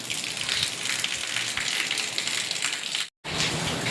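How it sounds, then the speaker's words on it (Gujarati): Steady, heavy rain pours down with gusting wind, a dense continuous hiss broken by a brief dropout near the end, with no voices. "પવન આવ્યો ને વરસાદે સારો વધુ આવ્યો"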